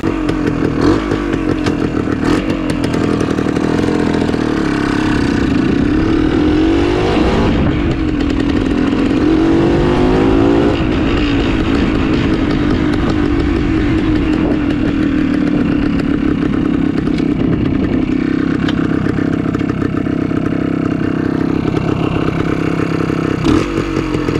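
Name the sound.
Suzuki TS250 vintage motorcycle engine running and riding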